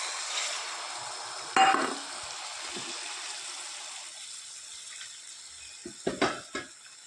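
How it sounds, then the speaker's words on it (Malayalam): Water poured into a pan of hot ghee while making rava kesari, giving a steady sizzle with a sharp hiss near the start and a few splashy bursts toward the end. "നമുക്ക് അതേ അളവിൽ 2 പാത്രം വെള്ളം ഒഴിക്കാം."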